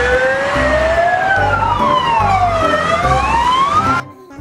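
A toy fire ladder truck's loud electronic siren wails in sweeping up-and-down tones alongside a pulsing horn pattern, then cuts off abruptly near the end.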